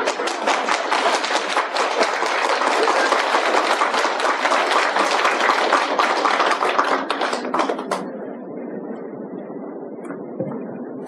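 Applause from a Buddhist lecture audience at a Seon meditation hall: dense, sustained clapping that runs strong for about eight seconds before thinning to a softer patter.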